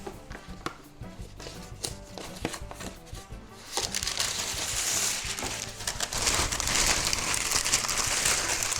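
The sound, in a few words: parchment paper crinkling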